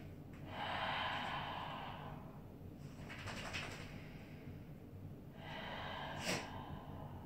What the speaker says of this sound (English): Take three breaths for me.